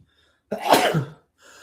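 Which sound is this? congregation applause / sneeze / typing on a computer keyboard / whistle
sneeze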